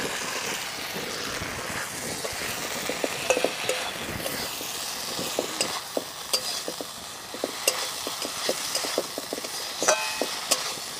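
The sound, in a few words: fried fish stirred in sizzling spiced oil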